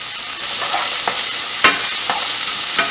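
Vegetables sprinkled with a little salt fry in a hot pan with a steady loud hiss, broken by scattered scraping stirs and clatters from the spoon, with no voices.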